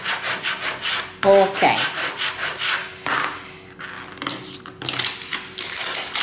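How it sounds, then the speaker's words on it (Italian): Packing tape rubbed down hard onto a laser-printed paper sheet: repeated close, loud scraping strokes in uneven bursts with short pauses, and a brief spoken word early on. "Vado a schiacciare bene intanto il mio, così vedete, il mio nastro, in modo che aderisca perfettamente."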